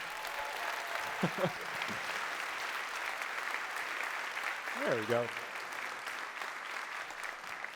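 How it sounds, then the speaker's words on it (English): Conference keynote audience applauding, a steady wash of many hands clapping in a large hall, with a speaker's voice briefly heard over it twice. "could you please join me in giving them a round of applause?"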